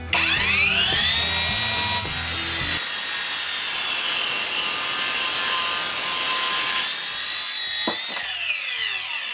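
A GRAND cordless circular saw with a 24-tooth blade whines loudly through wood in one sustained 45-degree cut, its motor pitch dipping under load, then spinning back up and winding down.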